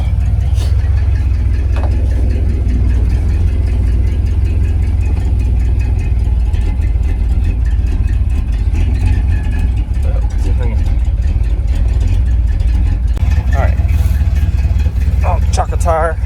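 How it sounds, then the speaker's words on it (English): An old, neglected MOPAR car engine idles loudly and steadily up close, a deep continuous rumble with people talking over it throughout. "So we're gonna let it idle for a minute"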